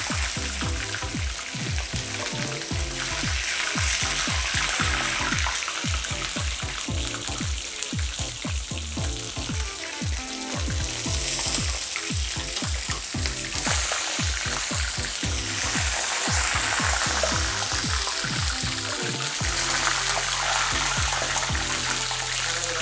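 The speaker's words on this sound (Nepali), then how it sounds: "5 मिनट फ्राई गर्नु।" Sliced mushrooms fry in a pan, browning for several minutes, with a steady, fairly loud sizzle and crackle running throughout and nobody speaking.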